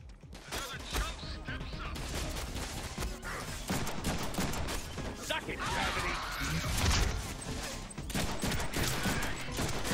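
Enemy gunfire aimed at the player in the Deadpool video game, a steady barrage of rapid shots, impacts and clattering combat effects, with someone talking throughout.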